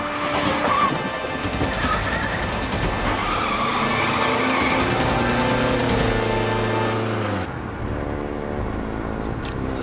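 Road noise from a moving bus heard over a phone line: a loud, continuous engine rumble with broad road roar and occasional tire squeals, steady for about eight seconds before easing slightly.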